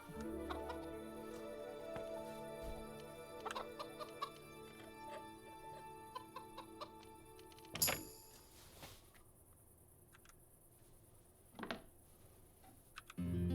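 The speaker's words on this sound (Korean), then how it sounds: "야 미친 닭이 들어있네" Game chicken in Kingdom Come Deliverance clucking inside a building, scattered soft clucks and rustles over a steady ambient hum, with a sharp louder burst midway and quieter stretches after.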